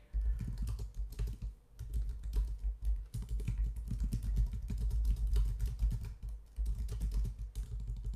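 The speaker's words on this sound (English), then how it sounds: "Sorry, typing and talking doesn't usually work for me." Fast, steady typing on a computer keyboard fills the whole stretch: dense clicking keystrokes close by, with brief pauses between bursts and no talking.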